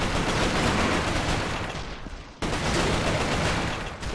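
Video game gunfire crackles in a continuous loud barrage, briefly cutting out just past the midpoint before resuming at full intensity.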